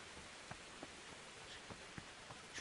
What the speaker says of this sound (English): it's raining. Beautiful.